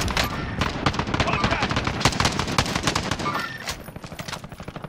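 Rapid gunfire in a battle royale shooter, a dense stream of loud close shots rattling almost continuously before thinning into scattered bursts near the end, with voices talking over it.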